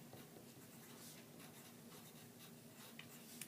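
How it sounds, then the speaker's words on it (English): Pen writing on paper during a math lesson about halving a cookie recipe, a steady soft scratching that runs continuously for a few seconds, faint and close, with no talking. "I'm going to write that."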